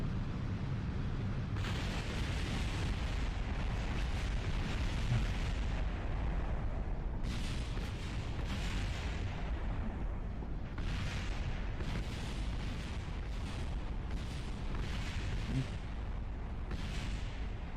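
Rocket explosions roar and crackle continuously in Kerbal Space Program, a loud dense rumble with repeated bursts and booms layered throughout, nearly no pauses.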